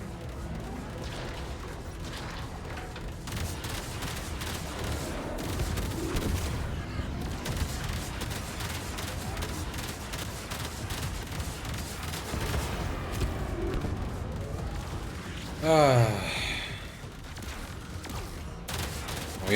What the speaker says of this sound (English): Gunnery crews, launch torpedoes.